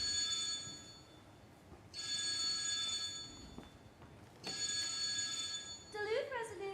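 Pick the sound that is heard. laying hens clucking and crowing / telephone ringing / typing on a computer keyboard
telephone ringing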